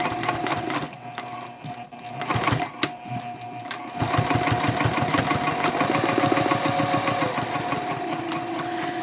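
A sewing machine runs in steady fast stitching bursts over a D-ring tab on a fabric shopping bag, briefly pausing and restarting before settling into a continuous close, even rattle to the end.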